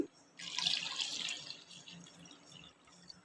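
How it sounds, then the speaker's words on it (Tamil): Water poured over taro root in a pot for boiling, a short close splashing gush that starts sharply, then tapers off over about three seconds in a quiet kitchen. "சேப்பங்கிழங்கு தண்ணி ஊற்றி"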